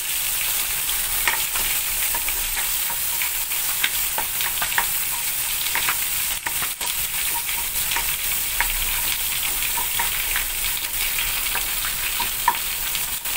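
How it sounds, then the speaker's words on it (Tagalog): Onions frying and being stirred in a hot pan, with a steady, loud sizzle and continuous scraping throughout and no talk. "Haluin lang natin, inipot-nipot lang natin ng kaunti hanggang sa lumabas yung aroma sa ating sibuyas"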